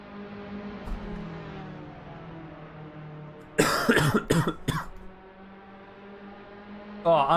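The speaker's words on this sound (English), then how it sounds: "I'm trying to make sure my coughing isn't heard" A few harsh coughs burst out in a quick cluster mid-way, close to the microphone, over a steady engine drone from a Formula-style race car sim at Watkins Glen; another short burst comes near the end.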